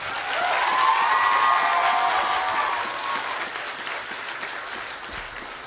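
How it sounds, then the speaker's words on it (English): An audience at a middle school chorus Christmas concert breaks into applause, loud dense clapping that swells at once, holds, then gradually thins and fades, with some scattered cheering. "So give her a round of applause."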